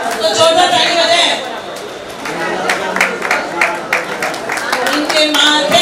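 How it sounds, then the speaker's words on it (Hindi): An audience claps at a Digambar Jain Bagherwal women's gathering in Kota, crowd chatter first, then a run of lively handclaps under talk that swells toward the end. "तो जोरदार ताली बजाएं"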